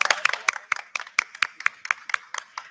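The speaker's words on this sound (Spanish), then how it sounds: "Fuerte aplauso otra vez." Handful of people clapping for a family programme results presentation, a sparse, uneven run of close, sharp claps with no talk over them.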